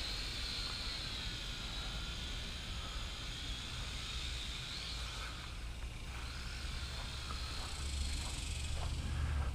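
Two small remote-controlled drones hover and flip together, a steady close whine of rotors running throughout with pitch shifts as they climb and tumble.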